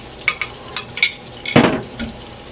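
Flour mixture for burger steak gravy sizzles and bubbles in a hot pan, with a few light clinks of a utensil stirring, then a louder hissing burst of sizzle before it settles.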